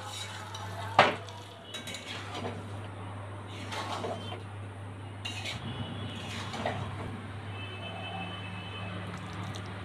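A spoon scrapes and clinks against a pan and plate as fish-head muri ghonto is served, with a sharp clatter early and a low steady hum beneath scattered soft knocks.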